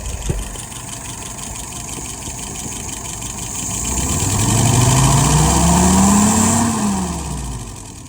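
A car engine tuned with a Carter WO 636SA carburetor idles, then revs up smoothly in one rising acceleration and eases back down, loud and close with no talking.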